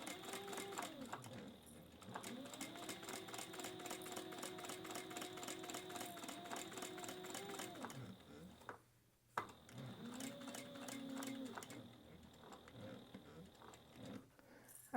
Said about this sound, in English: now I'm going to top stitch straight down the side. So I'm top stitching at 1/8 of an inch.